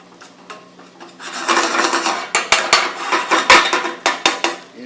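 A utensil stirs an omelette cooking in a pan, first quiet and then a run of rhythmic scraping and clinking strokes against the pan, close and fairly loud, with no talking.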